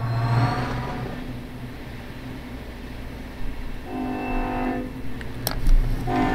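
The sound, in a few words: train passing in Run8 train simulator video game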